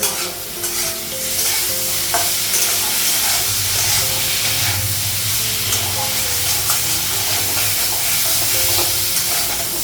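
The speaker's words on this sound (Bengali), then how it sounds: "আদা বাটা, গ্যাসটা বাড়িয়েছি আর একটু ভেজে নেব" Ginger paste sizzles and fries loudly in a hot pan, a steady dense hiss with occasional stirring scrapes throughout, close and continuous with no talk.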